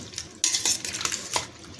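Raw mango pieces soaked overnight in salt and turmeric being stirred in a bowl, wet clinking and scraping of a utensil against the bowl in quick, close bursts with watery squelching.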